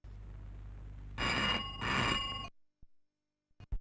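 An old-style telephone bell rings in a dubbed Telugu film scene, two loud bursts of ringing in quick succession, followed by silence and a few faint clicks.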